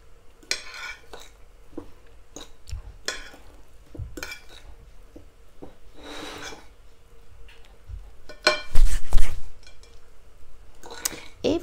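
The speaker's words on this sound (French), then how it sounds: "je vais venir mélanger ma garniture à mon riz" A utensil stirs garnish into Cantonese fried rice in a pan, with intermittent scraping and clinking bursts of metal against cookware, growing louder and busier toward the end, close and clear.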